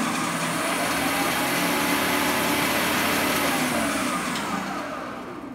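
A Shopsmith woodworking machine's motor running at high speed, a loud, steady whirring drone that holds constant for several seconds before starting to fade slightly near the end.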